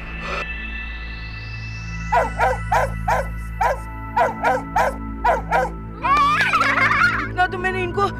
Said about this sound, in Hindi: लेकिन अब जो ये कुत्ते आएंगे वो असली होंगे और अब वो मोंटू के पीछे भागेंगे।